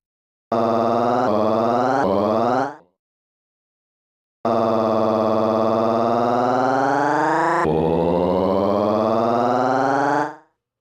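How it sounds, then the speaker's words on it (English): A sustained sampler synth tone with a wavering, siren-like LFO-modulated pitch plays in three short bursts, pauses, then returns as a long wobbling note that swells and fades. "it'll take like almost 3 seconds before we can fully hear the LFO at work."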